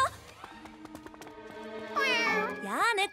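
A cartoon cat in a children's animated series gives a string of meows, short high cries followed by longer wavering, plaintive mews, clear and close with no other voices.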